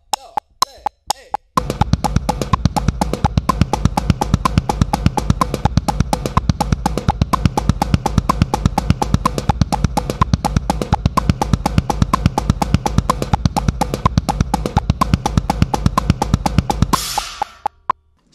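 A bass drum exercise starts with a few separate kicks and then settles into a steady, rapid train of close, punchy beats. The beats keep going for about fifteen seconds before stopping abruptly, with no talking.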